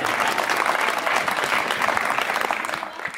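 Enthusiastic audience applause at a Hindi comic poetry gathering, dense and sustained clapping from a crowd that fades slightly at the end.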